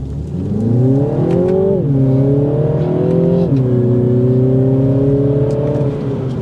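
A 2023 Mini Cooper S two-door hardtop with a manual gearbox accelerates hard, its engine note climbing steadily through the revs, dipping briefly at two gear changes and then rising again, loud and heard from inside the car.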